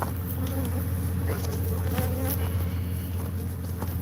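Aggressive bees swarm around a hive outside a house, a loud, steady, close-up droning buzz that holds without a break over a low background hum, with no speech.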